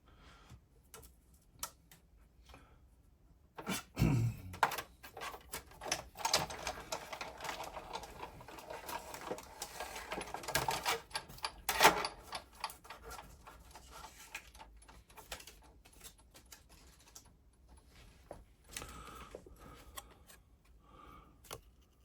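Scissors cut through a piece of Ross Lagoon cardstock, a run of small close snips and crisp paper rustles, irregular and fairly faint, with quiet handling in between.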